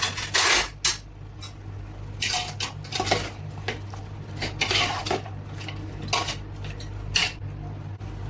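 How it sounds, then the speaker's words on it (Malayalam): Chicken pulao with mint and coriander leaves being stirred in a pot, a metal spoon scraping and clinking against the pot in irregular bursts over a steady low kitchen hum. "നന്നായിട്ട് ഇളക്കി ചേർത്ത് കൊടുക്കാം"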